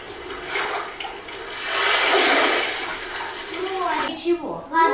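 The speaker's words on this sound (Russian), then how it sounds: "Это звуки воды." Water pours and splashes steadily in a kindergarten lesson about water sounds, a broad rushing wash that swells in the middle, with a voice breaking in near the end.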